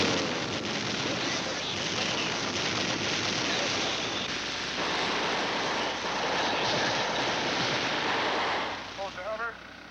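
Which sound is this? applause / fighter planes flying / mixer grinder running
fighter planes flying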